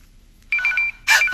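A telephone rings with an incoming call from an unknown number, two bright electronic ringtone bursts sounding clearly in a quiet room.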